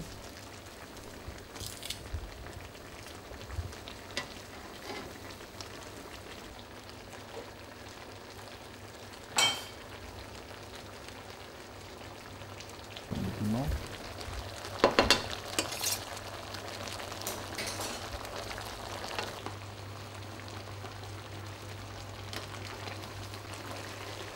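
Garlic and lobster sauce cooking in a pan, a steady low sizzle with occasional stirs and clinks, fairly quiet, with a couple of brief louder knocks and no talking.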